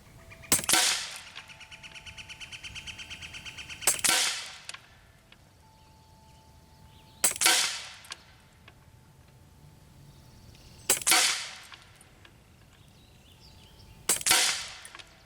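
Five sharp shots from an Air Arms SK19 .30 caliber PCP air rifle, each crack spaced a few seconds apart with brief trailing ring, fired outdoors in wind with quiet pauses between.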